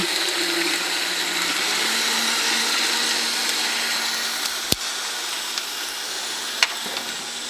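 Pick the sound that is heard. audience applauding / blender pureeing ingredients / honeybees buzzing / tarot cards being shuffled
blender pureeing ingredients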